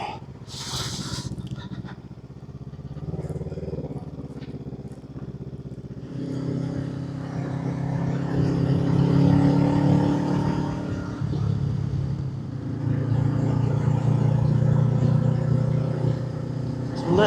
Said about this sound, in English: what you think about the sound of this new exhaust